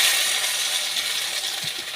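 Tomatoes stirred in a hot pan for a Tamil beans, radish and soya curry, giving a steady loud sizzle with light scraping throughout and a sharp clink at the very end.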